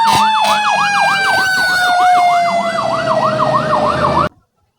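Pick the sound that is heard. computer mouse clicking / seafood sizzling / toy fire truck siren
toy fire truck siren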